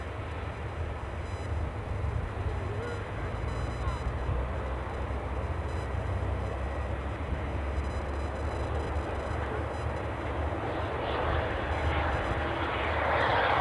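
Brussels Airlines jet engines spool up as the plane begins to taxi at Edinburgh Airport, a low distant rumble that swells with a hissing roar toward the end.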